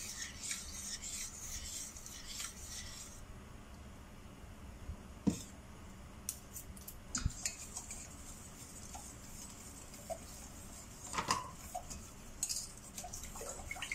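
Soft scraping and rubbing of a spoon stirring graham cake mixture in a pan, with scattered light metallic clicks and taps, close and quiet with no talking.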